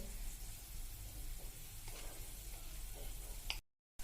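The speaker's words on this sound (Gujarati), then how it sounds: "હવે આ બાજુ આપણો વઘાર પણ એકદમ સરસ પરફેક્ટ ઉકળી ગયો છે" Soft, continuous sizzle of a spice tempering frying in hot oil, with faint crackles and ticks, then a brief silent gap near the end.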